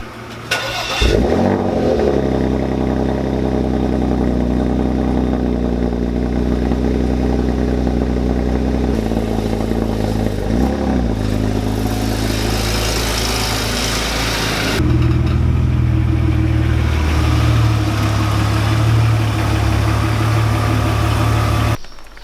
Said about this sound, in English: So here's a cold start.